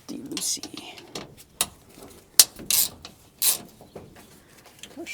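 Ratcheting wrench clicks while loosening a bolt on a 1946 Chevy in a garage, several short bursts of metallic ticking spaced irregularly, close and fairly clear, with a soft breathy voice in the background.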